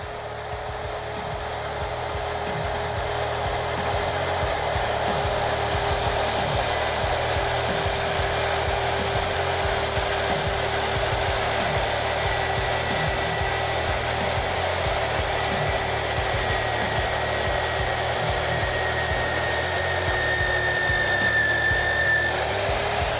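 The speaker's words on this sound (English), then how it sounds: "I'll just end up drilling the whole rail at this 3/4 with our 1-inch hard stop" Steady drill grinding through a steel rail with a 3/4 bit against a 1-inch hard stop in a metal fabrication shop, a loud continuous whine holding alone for over twenty seconds.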